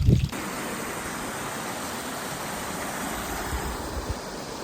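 Stream water flowing away from Palakkuzhi waterfall in Palakkad, a steady broad rushing wash heard close and alone after a brief bump at the start.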